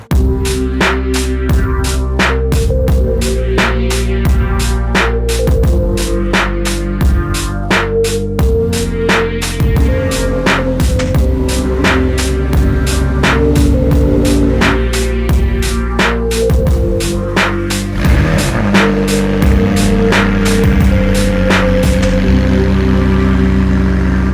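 A McLaren 600LT idles with its rear-mounted engine running, a steady low rumble and vibration that holds loud and close throughout, with rapid clicking or ticking layered on top and no talking.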